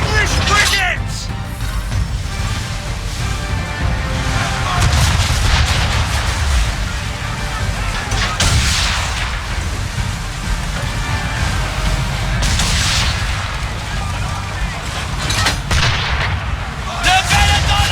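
Heavy cannon fire from English frigates booms continuously in an Assassin's Creed III naval battle, loud and dense with overlapping blasts and cracks under a constant roar, with voices mixed into the din.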